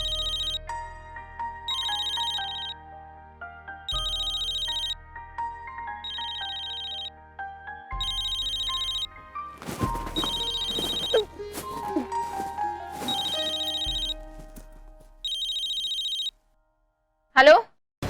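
A telephone rings at midnight in a repeating pattern of regular bursts with short pauses, loud and close, while background music plays and people talk partway through.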